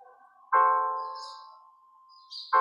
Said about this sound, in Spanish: ocurriría algo que vamos a ver más adelante que se llama la quinta disminuida